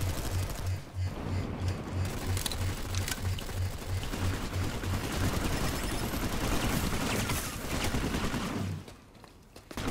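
Rapid, continuous gunfire crackles through a noisy Planetside 2 battle, dense bursts layered over a steady rumble, easing off near the end.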